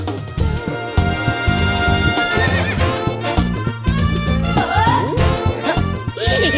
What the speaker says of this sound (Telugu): ఎవడన్నా గుర్రం ఎక్కుతాడు, వీడేంటో గుర్రాన్ని ఎక్కించుకున్నాడు